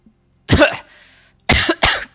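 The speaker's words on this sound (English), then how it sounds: "coughs a little bit" A short, forceful cough opens, a softer rasp follows, then after a brief pause two more sharp coughs in quick succession, close and clear.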